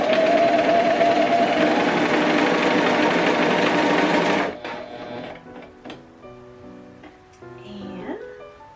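A Pfaff Coverlock 4.0 sewing machine stitches fabric loudly and steadily, a rapid mechanical whirr lasting about four seconds before it stops abruptly, followed by quieter handling clicks and a brief voice.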